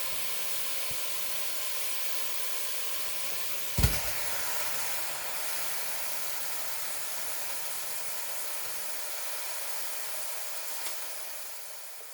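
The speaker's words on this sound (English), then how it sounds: "Listen to the sizzle." Ground beef sizzling in a preheated pot, a steady soft hiss close by with one brief knock early on and no talk.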